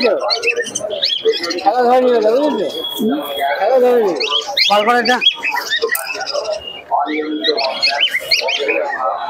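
Pigeons cooing and fluttering at a busy pigeon market, several birds calling close by in overlapping bursts, with people talking loudly throughout.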